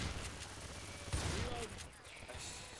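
Gunfire in the video game Left 4 Dead 2 as a player shoots zombies, heard as fairly quiet bursts of repeated shots in a busy game mix, with a voice talking faintly underneath.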